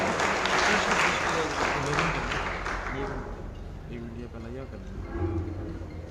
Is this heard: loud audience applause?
yes